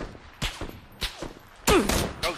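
Gunfire in PUBG, a string of sharp shots cracking at irregular intervals, the later ones louder and closer with a brief rattling burst, over quiet background noise.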